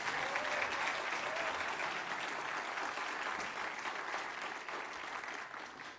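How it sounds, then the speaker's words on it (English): An audience at a Black History Month celebration gives sustained applause, an even wash of many hands clapping that holds steady and tapers slightly at the close. "Let's just give that a round of applause."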